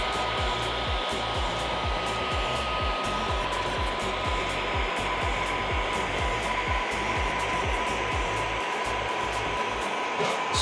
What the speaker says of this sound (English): I always post heat all the outer edges